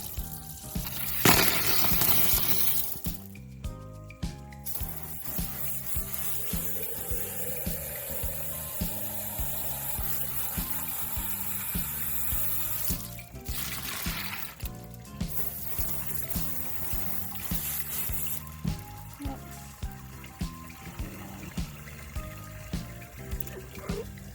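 Water splashing and trickling as a rock tumbler barrel of Lake Superior beach stones from Whitefish Bay is rinsed, with a steady run of liquid, a few louder gushes, and rhythmic knocking underneath.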